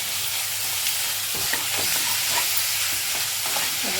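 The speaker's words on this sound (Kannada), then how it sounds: "ಸೊ ಈಗ ಈ ರೀತಿ ಫ್ರೈ ಮಾಡ್ಕೊಳ್ಳೋಣ" Egg and tomato frying in a pan, with a steady close sizzle and occasional stirring scrapes and taps throughout.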